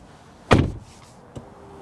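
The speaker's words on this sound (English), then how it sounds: "If I close over the door," A Hyundai Ioniq 6 car door shuts with a single solid thud, followed a moment later by a softer click, in an otherwise quiet space.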